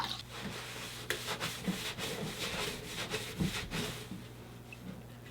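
A cleaning product is wiped across a greasy pan, giving repeated scrubbing and rubbing strokes, close and fairly loud, with no talk.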